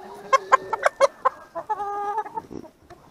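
A rooster calls up close on a farm morning: a quick run of sharp, clucking bursts, then a longer tonal, drawn-out call, and a few softer notes to finish.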